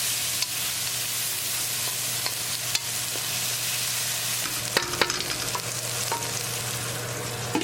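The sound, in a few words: stirring tomato into browned onions in frying pan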